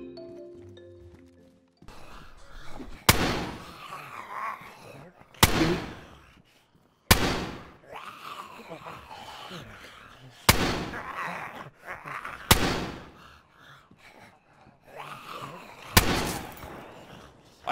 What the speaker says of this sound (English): I hit him. He shot back.